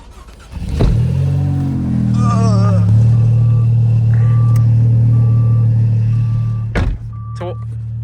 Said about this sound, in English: nice Maserati.